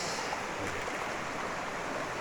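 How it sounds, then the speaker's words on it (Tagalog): A flowing stream in a camping area of an eco park, a steady broadband rush of running water that stays even and unbroken throughout, close and fairly loud with no voices over it. "Batis."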